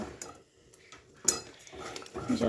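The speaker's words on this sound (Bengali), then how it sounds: "তার আগে এটাকে একটু ভালো করে নাড়িয়ে নেব।" Cashew paste, curd and green chili are stirred in a bowl for a sweet recipe. A utensil scrapes and clinks against the bowl close up, with steady rustling and no talking.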